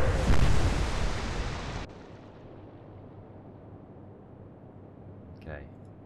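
Warship naval guns firing in the naval combat game Atlantic Fleet: a heavy, loud boom with a rumbling roar that cuts off abruptly, followed by a low quiet rumble and a brief voice near the end.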